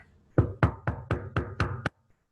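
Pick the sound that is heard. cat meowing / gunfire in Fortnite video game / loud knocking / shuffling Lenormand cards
loud knocking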